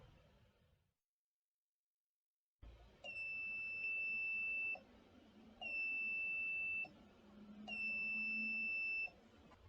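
An electronic buzzer driven by a microcontroller board beeps three times, each a long, steady high-pitched tone of about two seconds, with short gaps between, over faint background noise.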